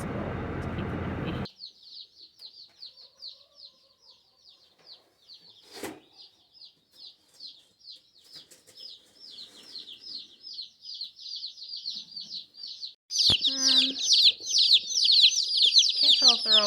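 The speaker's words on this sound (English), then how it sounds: "There was one chick that was making a lot of noise the whole way" Young chicks peep in a steady stream of high, rapid chirps. The peeping grows louder and denser near the end, with a brief thump and a rustle partway through.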